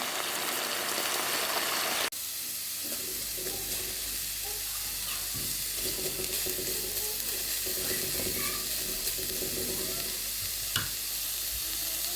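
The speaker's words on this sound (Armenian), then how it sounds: "գազարն էլ է պատրաստ, տապակվեց սոյայով, ավարտեցինք տապակելու գործողությունները" Carrots sizzling with soy sauce in a frying pan, a steady close hiss with stirring scrapes throughout, after a brief louder burst at the start.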